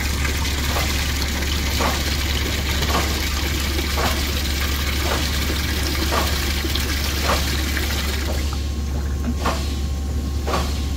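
Water running off a production tank sample at a North Dakota oilfield, a steady loud rushing flow with a low mechanical hum underneath and faint regular clicks, no voices.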